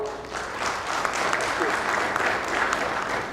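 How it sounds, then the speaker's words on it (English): Audience applause at an insurance industry summit and awards event in India, steady dense clapping from a large hall, loud and sustained throughout the short stretch. "Please give them a huge round of applause."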